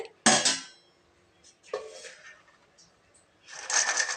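Metal clatter of a cooking pot being handled and lifted, a few clanks separated by quiet pauses.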